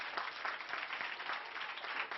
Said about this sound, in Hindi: सब ताली बजाइए